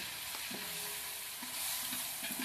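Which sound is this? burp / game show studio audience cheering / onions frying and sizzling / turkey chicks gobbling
onions frying and sizzling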